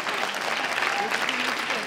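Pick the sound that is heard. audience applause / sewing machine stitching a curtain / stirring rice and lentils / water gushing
audience applause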